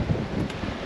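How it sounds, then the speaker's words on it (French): Wind gusting over a sailboat at sea under a mainsail, heard as a steady, loud rushing buffet against the microphone with no voices. "Là, le vent s'est remis à souffler."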